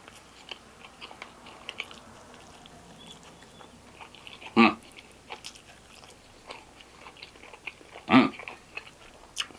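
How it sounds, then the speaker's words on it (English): Someone chews and bites into a spicy jerk chicken drumstick served with Ghanaian fufu, quiet mouth noises punctuated by two sharp crunchy bites, close to the microphone with no talk. "When I start chewing on the top of the drumstick, you know I like it."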